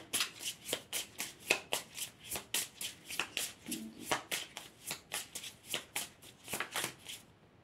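Manifestation cards are shuffled by hand in a quick, steady rhythm of crisp riffling bursts, close up and continuous with no voices.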